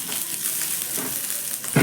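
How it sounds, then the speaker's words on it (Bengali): Garlic, grated ginger and green chilli fry in a pan while being stirred, giving a steady close sizzle with a brief louder scrape of stirring near the end. "এবার একটু নাড়াচাড়া করে আদা রসুনটাকে একটু ভেজে নিব।"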